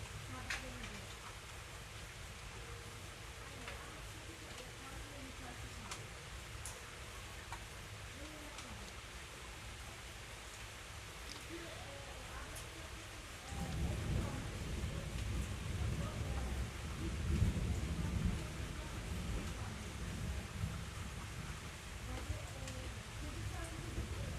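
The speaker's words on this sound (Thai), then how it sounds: "อัดคลิปฝนตกฝ่าห้องมันจะไปนอนฟังนะจ๊ะ" Steady rain hisses throughout in rural Thailand, growing heavier and louder partway through, with a low rumbling undertone and no clear voices.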